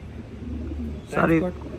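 A single pigeon gives a short, rolling coo close by at a loft of old-line racing pigeons, rising briefly over a low murmur of background noise.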